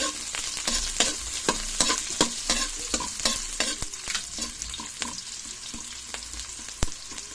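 Garlic and onion are stirred and sautéed in a pan for ginisang monggo with sardines, a bright sizzle punctuated by quick repeated scrapes and taps of a spatula, close and unaccompanied by speech.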